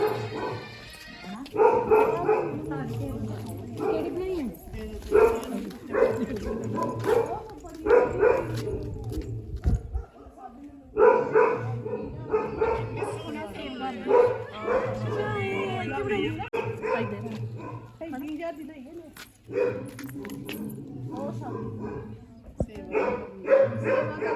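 Several dogs kept at a Punjabi farm barking in short bursts now and then, close by, mixed in with ongoing talk from a group of people.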